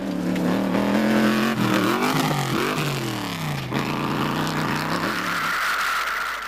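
A rally car in the Sun City 450 race of 2014 drives at speed, its engine rising and falling through gears with a loud, steady roar that dominates throughout, close by and without talk.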